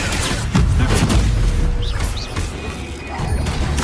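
Expelliarmus spell cast in Hogwarts Legacy, a loud crashing magical impact with booming, clanking bursts over continuous game noise.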